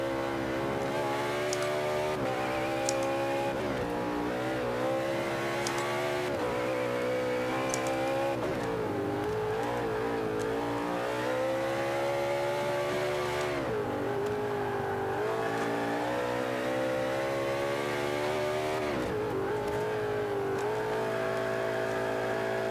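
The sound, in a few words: race car engine revving in endurance racing video game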